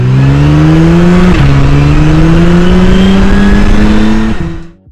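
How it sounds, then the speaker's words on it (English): A McLaren Artura Spider hybrid supercar roars loudly and close, its engine pitch climbing steadily with a brief dip partway through as it accelerates, then cutting off abruptly at the end. "This is the McLaren Artura Spider. It's McLaren's latest hybrid supercar."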